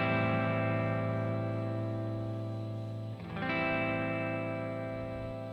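Sustained electric guitar chord drenched in reverb, played in Ableton Live, ringing out evenly with a brief dip and restrike partway through, the wash of effect trailing behind the notes with no talking.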